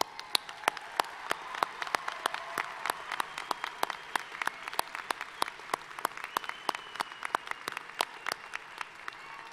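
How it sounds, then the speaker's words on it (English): Clapping at a university commencement ceremony comes as distinct, fairly sparse sharp claps against a quiet hall background, lasting about ten seconds and staying fairly soft. "Please join me in applause."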